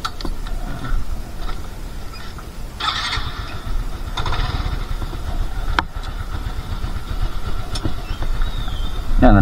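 A motorcycle engine runs steadily in the early morning darkness outside a home, a low rumbling idle with a few clicks and knocks over it.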